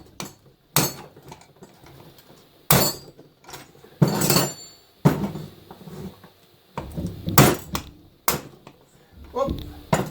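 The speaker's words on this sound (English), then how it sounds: "Don't know if you notice I'm using a lead hammer." A lead hammer strikes a rusted shaft on a roughly 60-year-old compressor, delivering sharp, irregular metallic blows spaced a second or two apart, with someone talking quietly between them.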